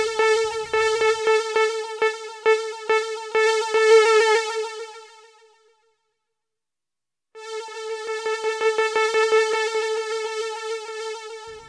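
Casio CT-X keyboard playing quick repeated notes at changing velocities, a bright sustained tone whose loudness rises and falls, stopping for about a second and a half before the repeated notes resume, with no voices.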